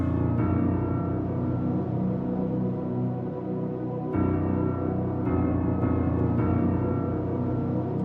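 A D piano one-shot sample from Kid Chronic's Essentials Volume 2, voiced as a dark trap chord. It sustains loud and steady for about eight seconds, with a fresh attack near four seconds and fainter re-strikes later, and no talking.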